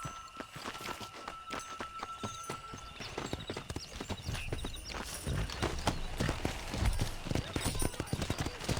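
Horse hooves clip-clop at a quick, steady pace as a rider moves out on horseback in Red Dead Redemption, with repeated sharp strikes over an ambient backdrop and occasional game sounds.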